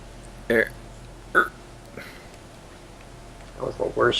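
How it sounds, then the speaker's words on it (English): A man lets out a few short throaty burps during a game stream, loud and close, then mutters and talks in short bursts. "That was the worst burp I've heard all day."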